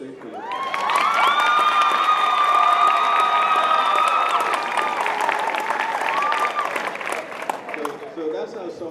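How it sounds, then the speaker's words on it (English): Graduation audience in full applause with loud cheering, shouts and whoops, a big crowd swelling quickly and holding strong before tapering off toward the end. "if you give me a loud round of applause, I will sing for you"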